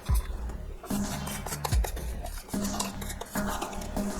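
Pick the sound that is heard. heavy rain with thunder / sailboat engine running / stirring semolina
stirring semolina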